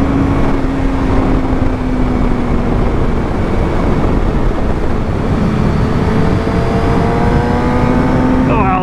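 A Suzuki GSX-R750 sport motorcycle ridden fast along a twisty road, its engine droning loud and steady throughout with pitch rising and falling through revs and gear changes, wind noise constant beneath.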